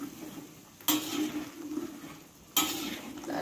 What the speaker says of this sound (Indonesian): Aduk-aduk nih sampai ayamnya mateng ya.